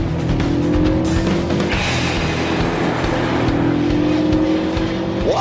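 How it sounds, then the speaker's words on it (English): Hot hatches, including a Vauxhall Astra VXR in sport mode, accelerate hard in a drag race, a loud close engine drone with rising pitch sweeps as gears climb, steady throughout. "I engaged sport mode and pulled up for a drag race"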